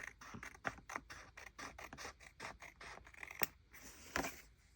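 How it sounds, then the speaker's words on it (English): Scissors trimming paper cutouts for a bullet journal: close, faint crisp snips in a quick, steady rhythm, a dozen or so cuts with a couple of sharper snaps near the end. "I'm just going to trim this a little bit."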